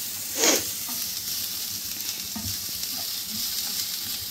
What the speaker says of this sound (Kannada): ಈಗ ಆನಿಯನ್ ಹಾಕ್ತಾಯಿದ್ದೀನಿ ಈರುಳ್ಳಿ ಜೊತೆಗೆ ಮೆಣಸಿನ್ಕಾಯಿ ಬ್ಯಾಡ್ಗೆ ಮೆಣಸಿನ್ಕಾಯಿ ಹಾಕ್ಕೊತಾ ಇದ್ದೀನಿ